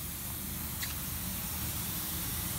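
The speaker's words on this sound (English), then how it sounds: "Sprayed in some simple green with a little bit of Dawn added to it to make it soapy." Soapy cleaner of Simple Green mixed with a little Dawn dish soap is sprayed from a spray bottle onto a Sunfish sailboat hull, giving a soft, brief misting hiss against steady low background noise.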